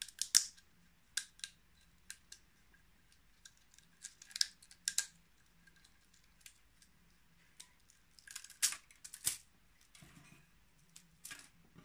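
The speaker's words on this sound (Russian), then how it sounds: "Отрезаем все лишнее." Scissors snip away excess heat-shrunk plastic bottle from a restored knife handle, a series of close, sharp clipping cuts in irregular bursts with quiet pauses between, no talking.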